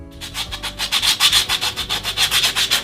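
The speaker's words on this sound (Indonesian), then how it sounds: "Haluskan potongan pola yang telah dibuat dengan menggunakan amplas." Rhythmic back-and-forth rasping of sandpaper scrubbing a coconut shell, about six strokes per second, close and loud.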